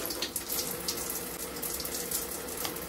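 Tap water runs steadily through a lotion pump nozzle being flushed clean, a continuous close splashing hiss with no voices.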